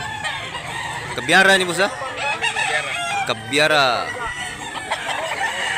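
A rooster at a poultry market in Mantalungon, Barili, Cebu crows twice loudly and nearby, with clucking between the calls over a busy background as people talk.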